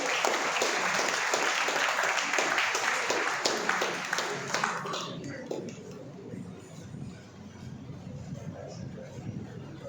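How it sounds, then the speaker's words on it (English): A large audience at a college mediation cell inauguration applauds its board guests, thick continuous clapping that runs strong for about five seconds before thinning into scattered claps and murmured talk. "Let's give a huge round of applause to all our board guests."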